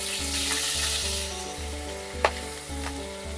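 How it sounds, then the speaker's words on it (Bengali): Pieces of fish fry in a pan, sizzling steadily and close up, with a soft stir or scrape partway through and a rhythmic low thumping underneath. "মাছ দুটো হালকা করে ভেজে নিয়েছি।"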